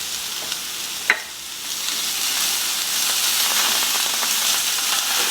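Vegetables and roasted red pepper sizzle steadily in a hot pan, a close, even frying hiss broken near the start by a single sharp clack from the pan or utensil.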